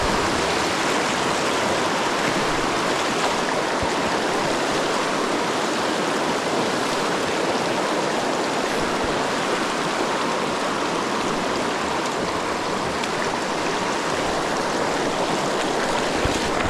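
Steady rushing water from a Wyoming trout creek fills the whole stretch, a constant broadband babble with no pauses, close and fairly loud.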